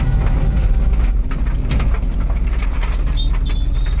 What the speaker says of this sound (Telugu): ఫుల్ వర్షం పడుతుంది ఒకటేసారి.